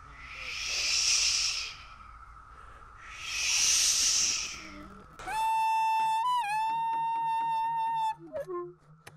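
Periodical cicadas (Magicicada cassini) in a massed chorus, rising and falling in two long, loud, hissing waves of buzzing, followed by sustained melodic instrumental tones.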